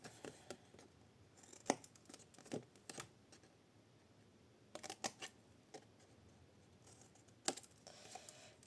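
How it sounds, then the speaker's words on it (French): Scissors snipping paper while making drawers for washi tape, short sharp cuts arriving in scattered clusters with quiet pauses between them, close and soft, no speech. "celui-là, on le coupe à fond"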